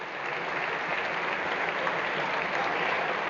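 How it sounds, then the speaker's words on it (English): Steady, even applause from football supporters in a stadium during a 2005/06 Scottish First Division match, a distant, uniform patter of many hands with no voices rising above it. "Sympathetic applause from the supporters"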